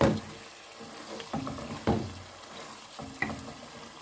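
Chicken and tomatoes frying in a pan, a soft steady sizzle with a few brief stirring knocks and scrapes, close and fairly quiet, no talk.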